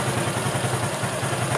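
A Honda Future Neo FI motorcycle with a faulty ECM idles steadily up close, a low, even engine putter with a faint mechanical clatter running unbroken throughout.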